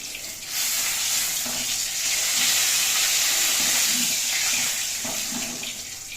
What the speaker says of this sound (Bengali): কালো জিরে ফোড়ন দিয়ে আলুটা দিয়ে দিয়েছি